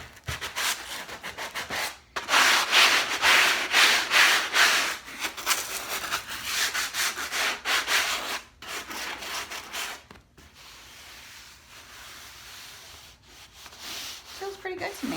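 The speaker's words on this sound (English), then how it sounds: "project that I'm sanding because I like to feel it and see if there's any rough areas that need attention" Hand sanding works over a chalk-painted upholstered chair, with bursts of raspy scrubbing strokes separated by brief pauses, close and moderately loud.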